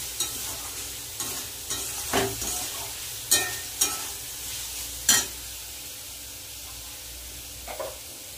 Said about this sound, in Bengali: সব মশলাগুলো একসাথে ভালো করে কষিয়ে নেব।